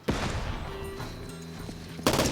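Flashbang grenade bursting in the tactical shooter Door Kickers 2, one sharp loud blast with a lingering ringing tail and a second heavy bang at the end, close and without talk.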